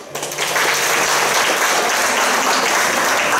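Audience applause at a Teacher of the Year award ceremony in Kazanlak, a loud, dense burst of clapping that swells within half a second and holds steady.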